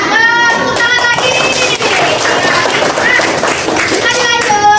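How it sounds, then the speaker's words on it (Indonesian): Children in an Indonesian primary classroom clapping their hands in a lively rhythmic pattern, close and loud, mixed with their voices chanting together throughout. "Tepuk tangan lagi."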